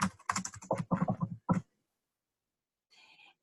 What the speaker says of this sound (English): Now, you need to type in your email address.